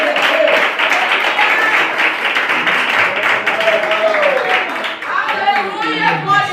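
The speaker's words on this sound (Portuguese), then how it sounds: "Se assente e adora a Deus com palmas" A church congregation claps hands together in worship, a dense, steady patter filling the room with singing and voices blended over it throughout.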